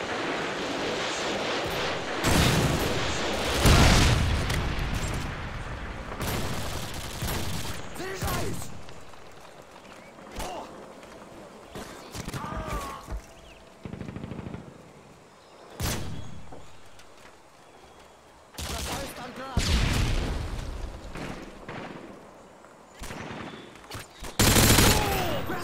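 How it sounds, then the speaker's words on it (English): Predator missile strikes and bursts of gunfire in the multiplayer mode of the video game Call of Duty: Modern Warfare 2, with loud rolling blasts and rattling fire that rise and fade across the scene. "Friendly Predator missile inbound."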